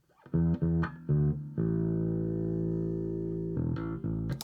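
A distorted, buzzy synth bass line pitched up an octave plays a few choppy notes, then holds one long gritty tone before a couple more stabs.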